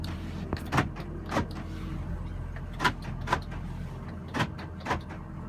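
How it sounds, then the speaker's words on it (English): Power door locks on a 2004 Ford F350 clunk in short, sharp mechanical actuations, about eight distinct thunks spaced irregularly over a quiet cabin hum. "And door locks."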